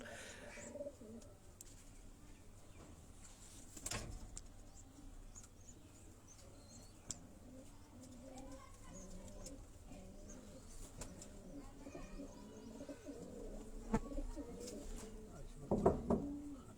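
Rooftop lofts of pigeons kept by hobbyists give soft, low cooing murmurs over steady background hum, faint and continuous, with a few louder bird calls near the end.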